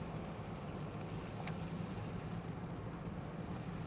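Heavy rain from a rainstorm drums steadily on a car while it drives around Tucson, Arizona, a constant dense hiss with a low engine rumble beneath.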